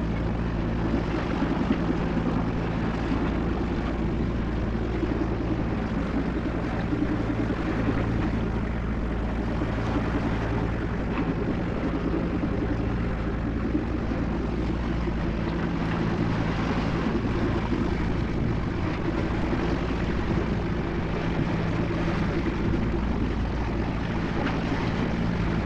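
A used sailboat's engine drones continuously at a constant level, with broad rumbling noise like wind and water running underneath throughout.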